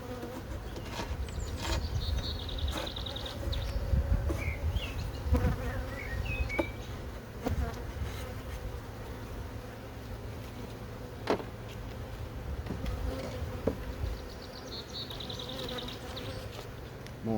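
A honey bee colony in an open hive gives off a steady, dense buzzing drone that lasts throughout, with occasional individual bees passing close by and faint handling knocks.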